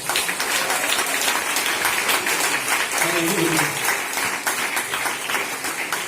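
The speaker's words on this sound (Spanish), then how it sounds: "Demos un aplauso al Señor." Steady crowd applause fills a church, dense and continuous, with a voice briefly calling out over it.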